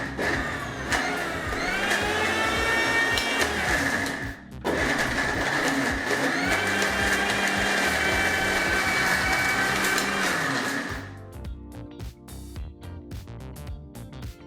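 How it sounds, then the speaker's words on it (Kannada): A mixer grinder runs at full speed grinding onion chutney a second time, a loud steady whirring drone that dips briefly near the start, then cuts off, leaving quieter clattering kitchen sounds. "ಮೊದಲನೇ ಬಾರಿಗೆ ಯಾವ ರೀತಿ ರುಬ್ಕೊಂಡ್ರೋ ಅದೇ ರೀತಿಯಾಗಿ ಮತ್ತೊಮ್ಮೆ ರುಬ್ಕೊಳ್ತೀವಿ"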